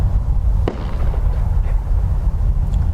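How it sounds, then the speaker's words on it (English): A bird-scaring firework fired at Dublin Airport gives one sharp bang overhead, heard against a loud, steady low roar of jet engines across the whole stretch. "They're literally firing above my head with the fireworks for the birds."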